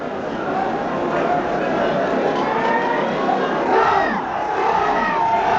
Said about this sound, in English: The crowd sets off in pursuit of the march.